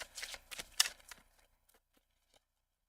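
A tarot card deck is shuffled close by: quick riffling bursts during the first second or so, then a few soft, scattered taps as the cards settle in a quiet room.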